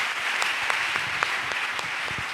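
Church congregation applauding: steady, dense clapping from many hands, moderately close and continuous, with a few louder individual claps standing out.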